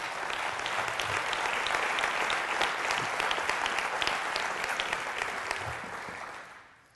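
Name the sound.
applause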